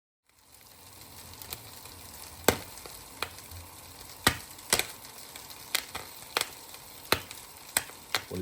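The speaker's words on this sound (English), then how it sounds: "On the frying pan on a medium heat, and presumably the heat comes up and cooks the popcorn." Popcorn kernels popping in a frying pan on medium heat, a low sizzle under scattered sharp pops that come singly and irregularly, growing a little more frequent, fairly quiet and close.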